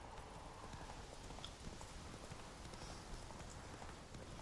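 Galloping horse hooves in The Witcher 3 video game, a fast, continuous, even drumming that stays soft and slightly muffled, like hooves on soft ground, with no voices.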